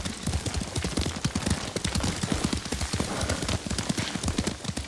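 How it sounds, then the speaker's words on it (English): Horse hooves clip-clop steadily at a riding gait in the Ghost of Tsushima video game, a dense, continuous pattern of hoofbeats that stays prominent and fairly close, with a busy background of ambient game sound. "Lord Sakai taught me to ride a horse"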